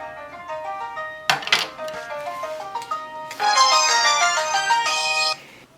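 A telephone ringtone plays an electronic melodic tune twice, the second burst louder and fuller, clear and near in an otherwise quiet kitchen.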